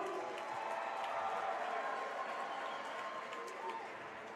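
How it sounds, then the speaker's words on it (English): A basketball arena crowd at a Horizon League game gives a steady, moderate swell of murmur and cheering as a player returns to the floor, a continuous broad wash with no distinct peaks. "he gets a bit of noise from the crowd"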